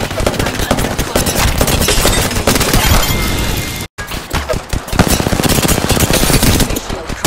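Loud sustained automatic gunfire in the Apex Legends battle royale game, dense rapid shots filling the mix, broken by a brief silent gap midway before another stream of rattling bursts.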